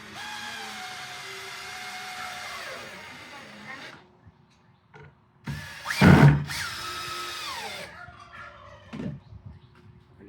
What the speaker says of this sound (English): We're going to drill straight in.